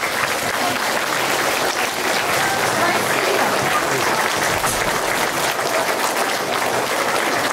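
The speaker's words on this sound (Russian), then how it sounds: "Вам аплодисменты дарят дети." Sustained, dense applause from a crowd at a children's graduation ceremony, loud and steady throughout with no pauses.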